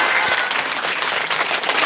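Audience applause at a Good Friday church service, a dense burst of many hands clapping together, loud and close, filling the short stretch without a break.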